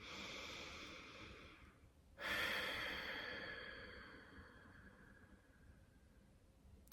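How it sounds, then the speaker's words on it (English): Slow, full breaths during a relaxing face yoga session, a soft airy inhale building to a louder, longer exhale with a breathy hiss that fades gradually, heard close and alone with no talking. "take a few full breaths"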